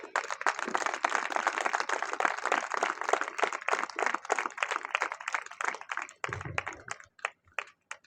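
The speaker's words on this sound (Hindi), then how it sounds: "क्या महिमा की तालियां प्रभु के लिए बजा सकते हैं?" A Christian congregation at a prayer meeting claps in praise to the Lord, a dense, fairly quiet patter of many hands that thins into scattered individual claps before stopping.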